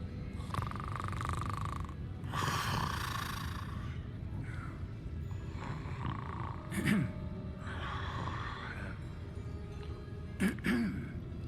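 Slow, heavy snoring from a creature in Hogwarts Legacy, two distinct rumbling snores rising above ambient game music and hum, with a person talking intermittently over it.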